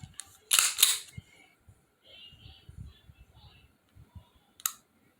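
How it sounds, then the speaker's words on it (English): Dry-fire trigger pulls on a Taurus GX4 pistol: two crisp mechanical clicks, a loud cluster near the start and a sharper one near the end, with soft handling rustle and quiet talk between. "for the trigger pull actually felt a little lighter to me"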